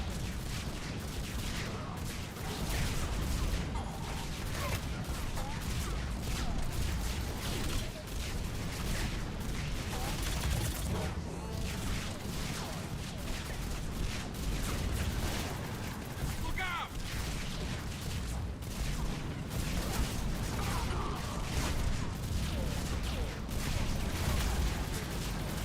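Mass Effect 3 combat with a grenade blast amid continuous rapid gunfire and booms, dense and loud throughout, with a voice talking underneath at times.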